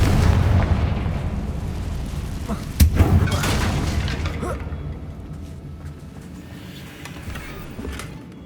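A Confringo spell blasts a bridge in Hogwarts Legacy with a deep, rumbling explosion, a sharp second boom, then debris crumbling and a long fading rumble.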